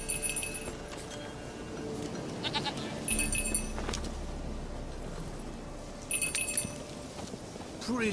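A goat in The Witcher 3 gives a few bleats over a steady outdoor background with light jangling, and the bleats repeat at intervals of a few seconds.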